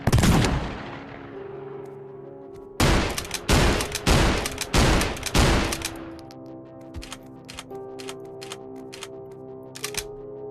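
An M90 Olympia shotgun fired in a video game: a loud blast with a long decaying tail, then a rapid run of four or five heavy shots, followed by lighter clicks and mechanical clatter.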